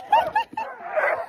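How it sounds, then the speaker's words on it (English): Excited sled dogs at a Lapland kennel in Rovaniemi, Finland yip, whimper and bark in loud, close bursts before the season's first run, with a voice faintly mixed in. "This is the dog's first drive of the season, so they're a little crazy today."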